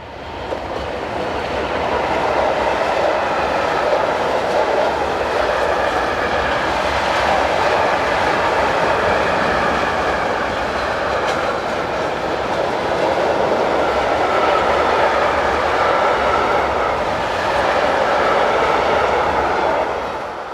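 An electric locomotive hauling a train rumbles past close by in a steady, loud roar, with rhythmic clattering of wheels over rail joints throughout.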